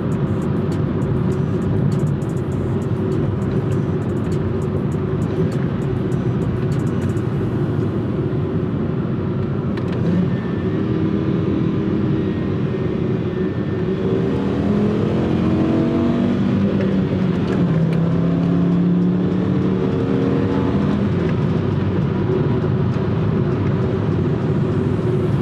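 A VW Mk5/Mk6 Golf five-cylinder engine revving hard and holding against the rev limiter, a loud, continuous droning roar with wavering pitch over about twenty-five seconds.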